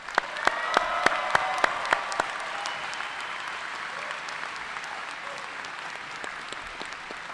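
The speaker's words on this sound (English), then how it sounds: "A round of applause" Applause rises from the audience at a medical school commencement, opening with a few sharp, loud claps nearby before settling into steady, moderate clapping from the crowd.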